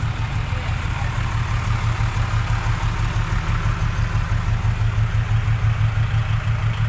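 A tractor stuck in mud runs steadily nearby with a deep, rhythmic chugging engine throb that stays even throughout, no talk.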